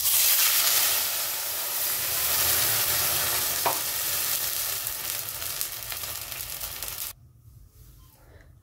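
Water poured into a kadhai of hot oil with crackled cumin seeds on a gas stove, producing a loud, close hiss and steamy sizzle that holds steady for several seconds, then cuts off abruptly.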